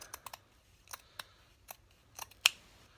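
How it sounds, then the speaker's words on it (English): Scissors snip ribbon for an Easter wreath in a few quiet, sharp clicks, ending in one crisp, louder cut. "So I'm going to cut it off"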